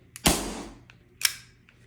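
A Bug-A-Salt salt gun fires SHRED-ER ammo at foil: a sharp close snap with a decaying rattle, then a second quieter shot about a second later.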